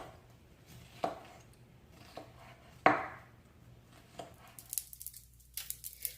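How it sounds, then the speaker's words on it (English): A kitchen knife slices peppers lengthwise on a cutting board: three or four distinct, close chopping thuds spaced about a second apart, followed by softer scraping and handling noises. "I turn them on their back, cut them long ways"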